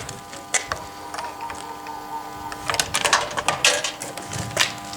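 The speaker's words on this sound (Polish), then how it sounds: "Wkładamy go tutaj do automatu." A one-złoty coin drops into a car wash coin machine, giving a short run of clicking, ratcheting mechanical sounds up close, with a few sharper clacks toward the end.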